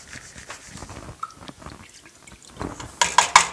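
Broth is poured into a cup in a home kitchen, giving faint drips and trickles that build into a brief, louder splashing burst at the end.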